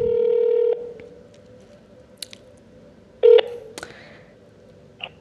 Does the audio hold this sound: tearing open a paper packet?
no